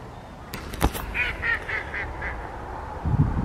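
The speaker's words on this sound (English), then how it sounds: "Loads of ducks." Ducks at Duddingston Loch in Edinburgh quack in a short series of about five or six calls, moderately near, over outdoor ambient noise with a few sharp knocks early on.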